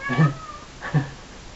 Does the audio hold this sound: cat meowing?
yes